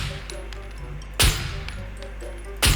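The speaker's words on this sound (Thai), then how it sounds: "ยิงรัวมากไม่ได้ครับ เพราะปืนดีดมาก ยิงเข้าไปครับ" Two loud, close gunshots from a hard-recoiling rifle in the survival game SCUM, spaced over a second apart, each a sharp broadband crack with a short ringing tail over a low background hum.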